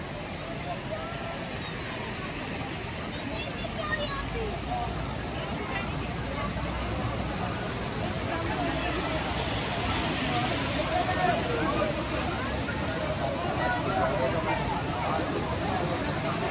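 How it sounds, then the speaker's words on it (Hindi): Kewai waterfall in Kashmir pours in a steady, full roar of rushing water, with crowd chatter from visitors faintly mixed in throughout. "ये जनाब बहुत ठंडी वाटरफॉल है।"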